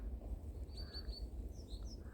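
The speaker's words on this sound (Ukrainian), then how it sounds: "І навіть пташки співають, цікаво." Faint birds chirping in the distance in a garden in December while light snow falls, a few short high calls over a low steady outdoor rumble.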